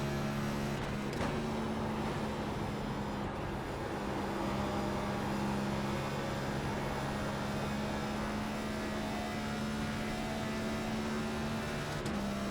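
iRacing Cup car engine in a racing game droning steadily with sustained tonal harmonics, throttle held through a downshift with faint pitch shifts and a brief blip near the start; continuous and moderately loud, with no talk.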